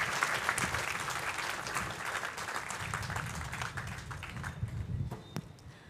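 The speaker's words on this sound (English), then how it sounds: "another round of applause to all the recipients of awards" A crowd at a Barbados Defence Force recruit pass-out parade applauds award recipients, with dense sustained clapping from many people throughout and a few sharper taps near the end.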